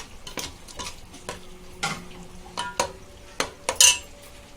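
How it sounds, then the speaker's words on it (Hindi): Chicken frying in a pan for a Chinese-style biryani, stirred with a metal spoon that scrapes and clinks in scattered strokes over a soft, steady sizzle. "अभी हम चिकन फ्राई कर रहे हैं, इसको पकने तक।"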